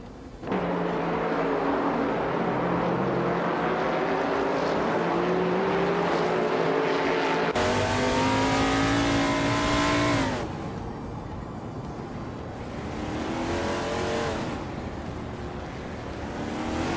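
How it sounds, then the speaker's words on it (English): A 1971 Mercury Cyclone race car in a racing video game revs hard and loud with a climbing engine whine, breaks into a sharper higher-pitched surge midway, then settles into a quieter steady drone. "Maya is currently in the 11th place driving a Mercury Cyclone from 1971."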